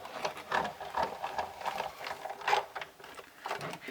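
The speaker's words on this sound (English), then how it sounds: "I am going to put this in here and run it through the Big Shot." A card passes through the rollers of a Big Shot die-cutting machine with a close, soft cranking whir. The grinding pulses rise and fall in an uneven rhythm, and nobody speaks.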